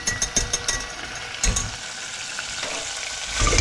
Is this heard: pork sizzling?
yes